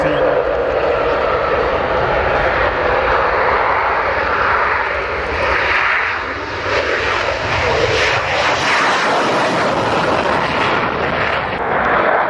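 Hawk jet aircraft touching down at an air show after its display, a loud sustained roaring engine wash that swells and eases slightly mid-clip, broadband and continuous throughout.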